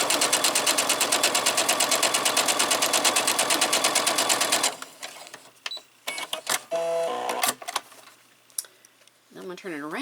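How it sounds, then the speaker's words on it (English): Sewing machine with a 1/4-inch presser foot runs a straight stitch in a fast, steady rhythmic chatter for about five seconds, then stops and a person talks. "that 1/4-inch presser foot is just going to ride right along that blue line that we made"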